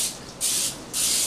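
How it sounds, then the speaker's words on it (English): Non-stick cooking spray hisses onto a brownie pan in two short, close bursts, with a brief pause between them. "I need to spray this, and I gotta make sure you get all the edges"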